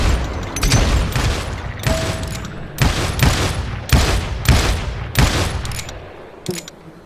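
Rapid gunfire in the Western shooter Call of Juarez Gunslinger, a series of loud sharp shots in irregular bursts, some overlapping into volleys, each trailing off before the next.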